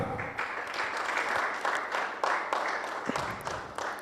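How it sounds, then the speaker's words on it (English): An audience applauds a women's runner-up at a squash trophy ceremony, steady clapping that sounds moderately distant and fills the clip with a few surges in loudness. "A huge round of applause for Savitra Kumar from Malaysia."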